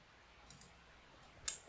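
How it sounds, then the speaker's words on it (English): A computer mouse is double-clicked, sounding as a soft pair of clicks followed by a sharper, brighter click in an otherwise quiet room. "double click it"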